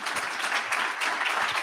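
Dense, steady applause from a conference audience at a summit, many hands clapping continuously for the whole stretch with no voices on top.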